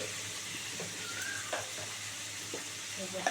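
Ground spice paste frying with pointed gourd in a pan, a soft steady sizzle at low level with occasional light scrapes and taps from stirring.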